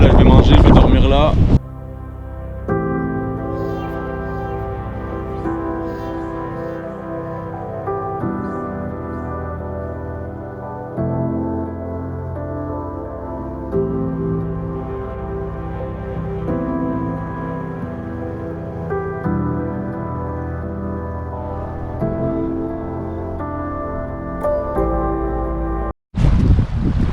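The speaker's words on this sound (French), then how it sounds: "je suis un peu exposé au vent. Mais bon, ça souffle de partout." Strong wind gusting around a tent pitched on an exposed spot in the Lofoten Islands, Norway, a steady roaring rush across the microphone under a man's continuous speech.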